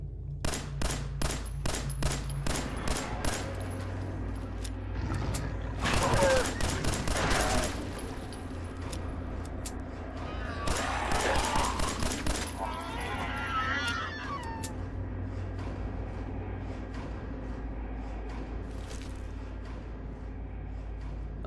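Rapid bursts of 10mm pistol gunfire in the Fallout 4 Silent Hill horror mod, a quick string of sharp shots at the start, followed by further scattered shots and game ambience over a steady low rumble.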